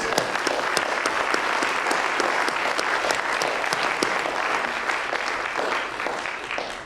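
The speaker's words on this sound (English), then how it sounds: "Can we give a round of applause?" An audience at an academic neo-soul music panel gives a steady round of applause, many hands clapping at once in a dense, sustained wash with no talking over it.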